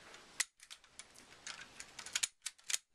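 Sharp, dry mechanical clicks from a Socom Gear Gemtech Oasis Luger airsoft pistol fitted with a silencer, arriving in irregular close-up bursts with brief pauses and no speech.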